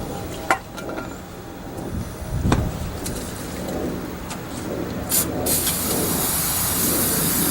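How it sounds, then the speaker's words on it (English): Brake cleaner is sprayed onto an old brake guide pin from a 2010 Silverado during a brake job: a short click and burst, then a sustained loud aerosol hiss that grows toward the end, heard up close with faint shop background. "I'm just taking some brake clean and getting all the old grease off of"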